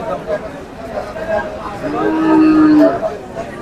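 A Sahiwal cow moos once in a long, drawn-out low call at a busy cattle market, with voices and crowd chatter around it.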